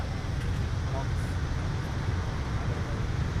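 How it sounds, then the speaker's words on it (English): Jet engines spooling up before takeoff at the Farnborough Airshow, a steady broad low rumbling roar held evenly throughout, heard from a distance with no distinct events. "you now hear the engines wind up"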